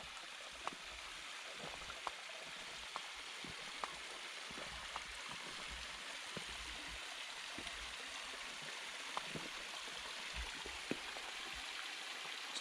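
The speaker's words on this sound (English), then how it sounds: "Got a real pretty little cascade waterfall here." A small cascade waterfall in a canyon, a steady, faint rushing and splashing of water heard from a distance, with scattered light taps and drips over the continuous flow.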